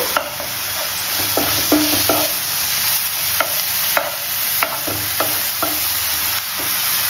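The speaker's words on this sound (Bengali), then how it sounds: "এবার আমি শাকটাকে এইভাবে মিশিয়ে নেব।" Chopped leafy greens seasoned with a little chili powder stirred in a wok, loud continuous sizzle broken by frequent quick spatula knocks and scrapes against the metal, close up with no voices.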